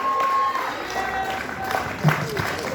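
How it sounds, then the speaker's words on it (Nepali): Clapping from the audience carries on at a Gurkha Samurai Fellowship graduation ceremony during a certificate handover, a moderate, diffuse patter of applause under a speaker's voice. "ताली बजिराख्नु।"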